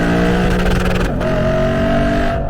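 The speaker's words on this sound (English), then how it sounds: "You have diagonally placed quad tip exhausts that are massive, and once again, please take a listen to this." A Lexus RC F V8 roars through diagonally placed quad tip exhausts in a short, loud rev that rises sharply, then drops back to a steady, deep burble.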